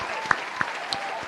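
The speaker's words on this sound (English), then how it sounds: "I'm going to give you a round of applause" Brief burst of applause from a group, with a few sharp, distinct claps standing out over a softer wash of clapping.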